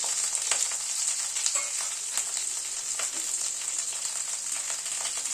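Potatoes and cauliflower fry together in hot oil in a pan, giving a constant bright sizzle with occasional crackles and pops, close and steady with no voices.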